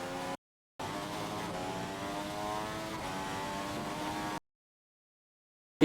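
Racing cars from a Formula 1 video game at Spa pass by in a steady engine whine with layered harmonic tones, broken by a brief gap, then cutting off into silence.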